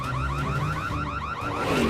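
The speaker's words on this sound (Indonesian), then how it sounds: "Dari mana alarm itu?" An electronic alarm wails continuously in a fast warbling pattern, loud and close, with nothing else audible.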